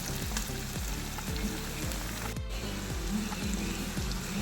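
Garlic, green chili and ginger sautéing in a pan for tuna fish pickle, giving a steady close sizzle broken by regular, rhythmic scraping strokes of a spoon across the pan.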